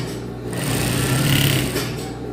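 A domestic sewing machine stitches the skirt section of a dress in one continuous run of rapid, whirring needle strokes that swells and then slows, heard up close with no speech.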